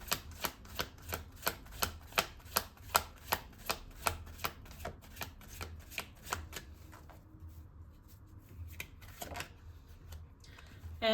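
Tarot cards are shuffled in a quick, regular run of crisp riffling snaps, close and clear, then slow to a few softer taps and a final card being drawn near the end, with no talking.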